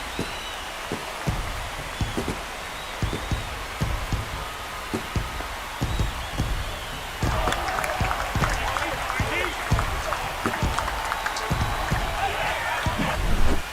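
A stadium crowd in the MLB The Show 25 baseball game roars after a home run, a steady wash of cheering and applause that grows louder partway through, dotted with sharp claps and thuds.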